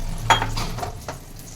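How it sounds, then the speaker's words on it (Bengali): Pointed gourd (potol) fries in oil as a light sizzle under a couple of sharp clinks and scrapes from a utensil against the pan, brief and close. "পটলগুলো এই দিকটা ভাজা হয়ে গেছে এবার আমি উল্টিয়ে দেবো এই পিঠটাও আমি অল্প ভেজে নেবো"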